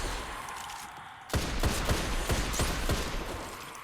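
Last Word hand cannon firing in the video game Destiny Rising: a rapid run of loud, sharp shots in quick succession, each crack followed by short ringing, with no talk.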